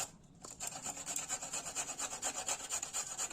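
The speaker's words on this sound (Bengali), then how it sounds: "গাজরটা আর বাঁধাকপিটাকে ঘষে নেব, গ্রেড করে নেব।" Carrot and cabbage being rubbed against a hand grater for vegetable momos, a quick run of rhythmic rasping strokes, close and fairly quiet, with no talk.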